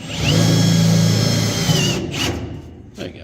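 Power drill bores through a spot weld on a 1952 Ford F-1 truck cab being mounted to its frame for a race truck build, a loud steady whine for about two seconds that winds down and stops.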